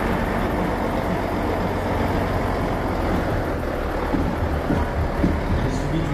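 Fire brigade search-and-rescue and clearance truck carrying collapse-rescue equipment rolls past in a firefighters' parade, a steady low engine rumble with outdoor crowd noise throughout.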